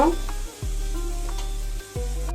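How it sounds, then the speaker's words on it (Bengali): Onion frying in oil until lightly browned, a close sizzle under a loud low steady hum that briefly drops out, with a few faint stirring knocks. "ভেজে নেব একটু পেঁয়াজটা একটু হালকা লাল করে ভেজে নেব"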